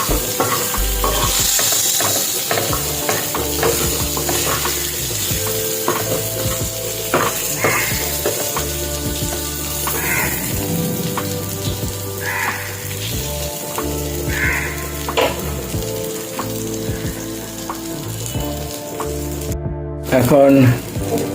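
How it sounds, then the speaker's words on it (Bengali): Potatoes are stir-fried in a frying pan at home, with a steady loud sizzle and repeated scraping, clinking spatula strokes running throughout, close up and continuous. "এবারে আলু প্যানে কষে নিচ্ছি এখন"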